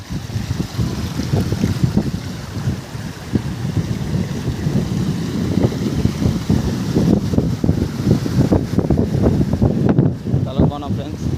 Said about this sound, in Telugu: జలపాతం